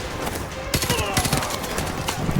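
Bursts of rapid automatic gunfire in Call of Duty: Modern Warfare Remastered, played on PC, crack through a busy battle mix at moderate level, with a few sharp single shots among the volleys.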